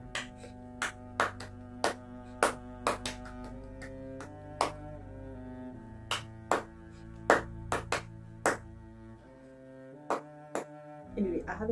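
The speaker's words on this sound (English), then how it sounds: "I haven't clapped that last part correctly" Sharp hand claps tap out an irregular musical rhythm over sustained background music, each clap distinct and fairly close, spaced unevenly across the passage.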